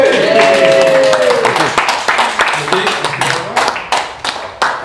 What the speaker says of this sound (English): Right, applause for Andy, everyone!